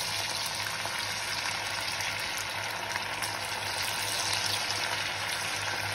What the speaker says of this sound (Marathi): तेल गरम झालं ना टाकून मस्त आता आपण याच्यामध्ये 65 ठेवूया.